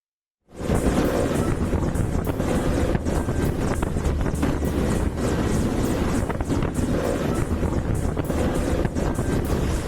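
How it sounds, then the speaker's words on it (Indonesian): A BNPB disaster-agency helicopter makes an emergency landing on a soccer field in a crowded neighbourhood, a loud continuous rumbling roar with wind buffeting that starts abruptly after a moment of silence and holds steady. "suara gemuruh helikopter yang tiba-tiba mendarat di lokasi"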